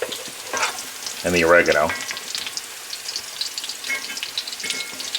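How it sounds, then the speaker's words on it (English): Garlic fries in a pan for a Marsala mushroom cream spinach pasta, giving a loud, steady sizzle and crackle with occasional stirring scrapes. A voice speaks briefly over it. "This side's just going to cook the garlic"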